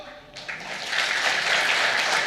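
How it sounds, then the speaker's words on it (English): Audience applause fills a pharmacology conference hall, swelling from a quiet start into steady, sustained clapping from a large crowd. "I feel the clap should be loud."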